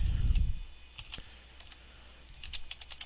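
A few quick clusters of keystrokes on a computer keyboard while entering CNC G-code commands in Mach3 controller software, with soft clicks set against a quiet room.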